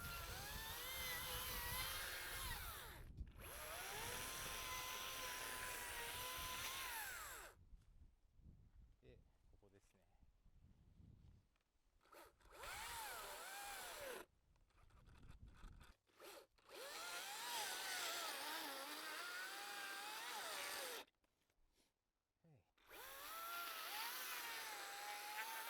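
Power tool cutting timber for a rough fence outdoors, loud buzzing bursts of cutting that stop and restart several times, with quieter gaps between.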